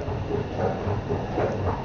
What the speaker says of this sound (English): I legit just came off my train.